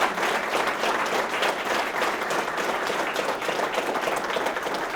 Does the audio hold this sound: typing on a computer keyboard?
no